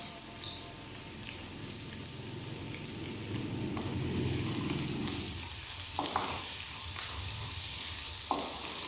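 Chopped green chillies and onion frying in a pan for pepper chicken varuval, giving a steady, close sizzle with occasional stirring scrapes and clicks toward the end.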